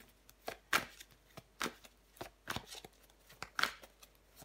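Tarot cards are handled and laid over one another during a reading, giving soft, crisp slaps and rustles in irregular bursts, close and quiet, with no voices.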